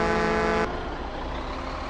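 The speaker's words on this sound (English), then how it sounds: "I heard the honk." A car horn honks in a driving video game on PS4, sounding as a loud sustained tone that cuts off sharply after about half a second and leaves rumbling engine and road noise.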